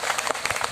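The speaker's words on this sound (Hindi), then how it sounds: "इनका भी बहुत एक बार जोरदार तालियों से स्वागत और सम्मान" A crowd at a Kshatriya Mahasabha gathering in eastern Uttar Pradesh claps for a speaker, a brief burst of dense, close applause.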